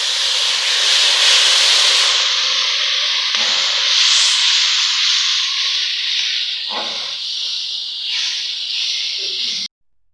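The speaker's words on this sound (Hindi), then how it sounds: "अब हम इसमें अदरक लहसुन का पेस्ट डालेंगे।" Ginger garlic paste hitting browned onions in a hot pot, a loud steady hissing sizzle that swells as it is added, with a few stirring scrapes, then cuts off abruptly near the end.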